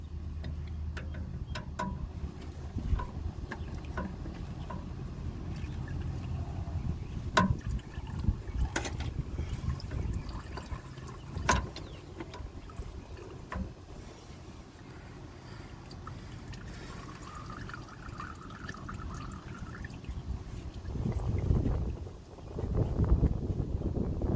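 Motor oil drains from a 2007 Toyota Tundra into a pan, a faint continuous trickle with scattered drips and ticks, plus occasional clunks and rustling nearby.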